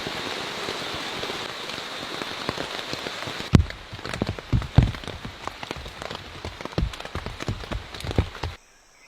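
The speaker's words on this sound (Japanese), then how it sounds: "この雨やばいな。" Heavy tropical downpour in an Asian rainforest, a dense roaring hiss that gives way to loud, close, irregular drops and splashes pattering on nearby surfaces before stopping abruptly.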